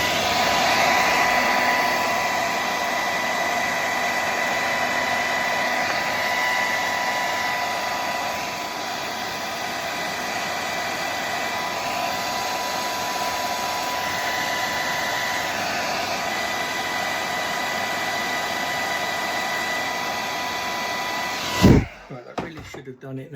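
A heat gun blows a loud, steady roar while it heats the back bezel of a Garmin Forerunner 45 watch. The roar goes on for most of the time and then cuts off abruptly near the end.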